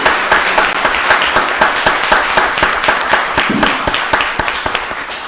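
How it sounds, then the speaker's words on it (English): An audience at a county board of commissioners meeting gives a round of applause, loud and close with distinct sharp individual claps scattered through a steady dense patter that tapers slightly near the end. "Y'all give Brandy another round of applause"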